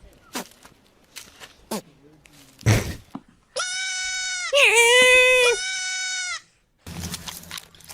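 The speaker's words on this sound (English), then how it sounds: "Screaming goats are quite interesting." A goat lets out long, loud, human-like screaming bleats, two drawn-out cries back to back, close by, with footsteps and thumps before and after on a farm visit.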